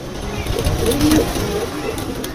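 Soft, low coos from pigeons kept in Dhaka, Bangladesh murmur close by over a steady background hum, with a few light flutters.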